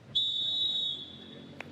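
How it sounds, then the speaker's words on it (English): A referee's whistle ends the first half of a youth football match: one sustained, loud, shrill blast lasting under a second over a low crowd murmur. "that was the first half whistle"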